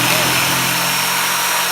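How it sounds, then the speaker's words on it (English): A power drill runs continuously, close and loud, while being used to clean a car, with a steady motor whine and tonal hum throughout. "we got the drill going"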